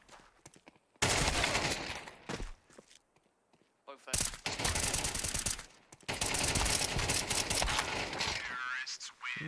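Counter-Strike 2 gunfire erupts in dense, loud bursts of rapid shots, pausing between volleys, with quieter footsteps and game clatter in the gaps.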